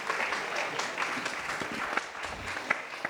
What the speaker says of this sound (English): So round of applause for Indoor Sun Hydro for hosting us.